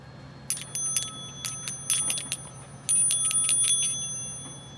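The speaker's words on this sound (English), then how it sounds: "The reason these bells sound different is because they're different thickness." A Western Electric 500DM telephone bell is struck in a series of rapid, uneven metallic taps, ending in a slightly longer ring that fades out.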